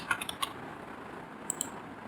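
A few light clicks of keys being typed on a computer keyboard, sparse taps early on and a pair of soft clicks later, faint against steady room hiss.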